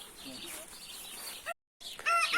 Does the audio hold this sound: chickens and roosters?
yes